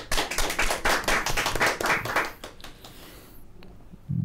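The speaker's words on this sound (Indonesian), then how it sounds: "Tepuk tangan dulu." A small group applauds at a show celebrating an athlete's silver medal: a brisk burst of hand clapping for about three seconds that thins out and stops, followed by quiet.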